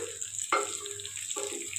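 Pumpkin-leaf fritters filled with chana dal frying in a pan, a steady close sizzle with a couple of sharp spits and pops as the lid comes off.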